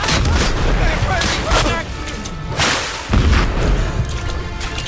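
Artillery guns firing in the First World War horror game Ad Infinitum, heavy booms and blasts recurring through a loud, busy battlefield soundscape, with a voice speaking at times.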